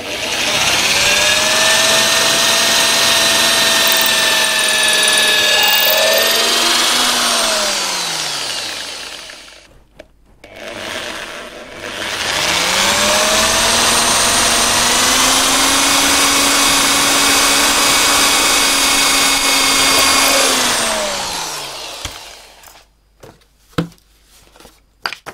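A loud power drill whirs steadily while drilling a clearance hole for a cigar box guitar neck, spins down, then revs up again for another long run before stopping, followed by a few sharp clicks.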